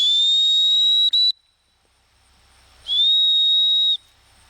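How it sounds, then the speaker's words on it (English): A dog training whistle gives two long, steady, piercing blasts with a brief break in the first and a pause between them, loud and close, used outdoors in duck dog handling practice. "So try that with your whistle."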